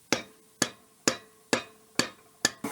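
Six evenly spaced sharp knocks of a rubber hammer striking parts of a turbo Corvair engine during assembly, close and distinct, each with a short ringing decay, with no talk.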